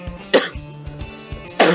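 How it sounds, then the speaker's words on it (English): Two sharp, close coughs, one near the start and one at the end, with a quiet low hum in between. "I'm gonna be coughing a lot."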